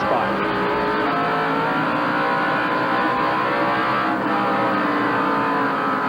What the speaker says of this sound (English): You can hear them accelerate and decelerate as they go into the turn.